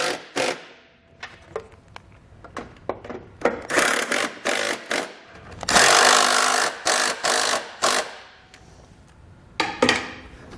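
Hand tools tighten the bolts of a Blue Ox base plate on a 2011 Chevrolet Traverse, with close, irregular bursts of metallic ratcheting and clanking separated by short pauses.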